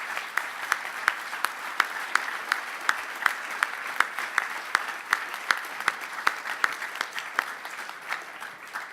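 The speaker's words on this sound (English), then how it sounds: "So please give a big round of applause to everyone who's contributed to that fantastic process" An audience at an awards ceremony claps in sustained, dense applause, many hands close and loud, holding steady before tapering slightly at the end.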